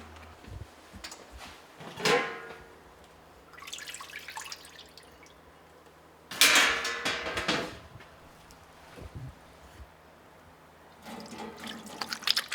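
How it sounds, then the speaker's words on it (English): Hands being washed with Simple Green degreaser under running water at a sink, bursts of splashing and tap flow separated by quieter pauses, close and without talk. "That's really washing my hands right there."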